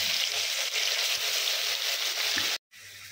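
A paste of ginger, onion, garlic and green chilli fries in a pan for doi katla, giving a close, continuous sizzle that drops out briefly before resuming.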